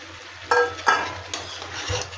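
A spatula scrapes and stirs fried lentil dumplings with turmeric-spiced mixed vegetables in a pan. Several distinct scraping strokes sound close and fairly loud over a faint sizzle, with no talking.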